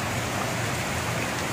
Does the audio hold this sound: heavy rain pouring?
yes